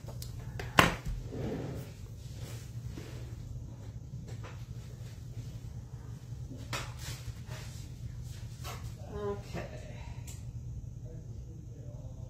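A dog barks indoors, one sharp bark standing out early and fainter barks following, all set back behind a person talking close by.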